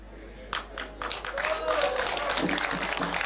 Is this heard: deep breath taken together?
no